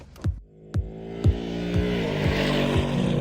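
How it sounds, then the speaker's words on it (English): A 2020 Mustang GT Performance Pack 1 with its 460-horsepower Coyote V8 revs hard in a string of sharp, loud bursts, each one falling into a steady, rising engine drone with no talk over it. "460 horsepower through that Coyote engine, which just sounds glorious."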